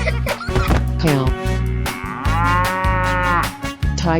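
A cartoon cow in a 3D animal slide game gives a loud, drawn-out moo that swells and falls over bright game music, with a voice briefly heard alongside.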